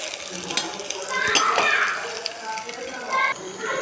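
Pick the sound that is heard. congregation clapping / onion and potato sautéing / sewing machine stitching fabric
onion and potato sautéing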